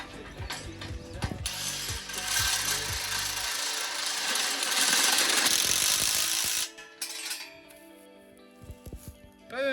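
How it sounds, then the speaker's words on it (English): A spanner ratchets a nut tight on a Walters fencing stay, a close, loud burst of rapid metallic clicking that turns to a sustained grinding rattle, then stops, with a few faint knocks after. "Obviously just wind that up by hand and do it up with a spanner."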